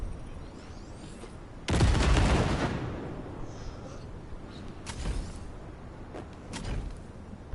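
An explosion in a video being watched hits as a sudden loud burst that rolls off over about a second, followed by scattered sharper bangs and thuds at a lower level.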